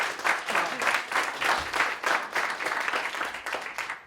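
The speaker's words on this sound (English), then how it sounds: "another round of applause for our contestants" Applause from an audience at a school oratorical contest, a dense rolling patter of many hands clapping, close and sustained, swelling slightly in waves.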